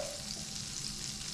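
Pieces of fish frying in a pan for a red gravy fish stew, with steady sizzling and light stirring throughout, close and even, no talking.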